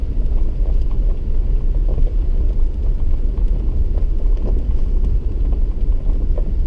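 Strong wind buffets around a vehicle with side windows, a loud continuous low roar and rumble from start to finish.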